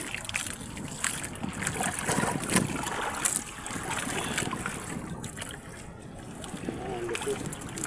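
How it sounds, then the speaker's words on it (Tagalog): Wind gusts roar over open sea with splashing waves, a broad steady rush, with faint talk mixed in. "Simula na ang hangin"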